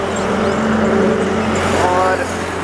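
Road traffic passing a roadside stop where a car has pulled over, a steady loud engine and tyre rumble filling the scene with a vehicle drone throughout.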